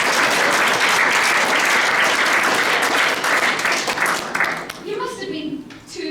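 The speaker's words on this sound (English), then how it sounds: "can we just do a clap for that?" An audience at a Lewy body dementia support group meeting claps together in a loud, dense round of applause that thins out and fades toward the end.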